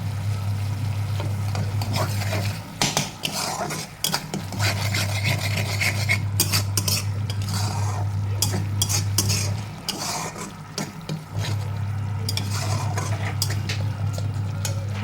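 Posto spice paste for potol posto being stirred and sautéed in a pan, steady scraping and rubbing of a spatula against the pan with a low hum running underneath, fairly close and continuous.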